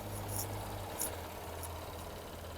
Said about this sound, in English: So obviously we're running the most popular engine, which is the V6